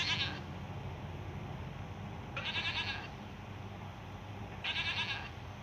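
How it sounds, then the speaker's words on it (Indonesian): A goat bleats three separate times, each call a short nasal burst spaced about two seconds apart over a steady low background hum, with no voices. "suara kambing."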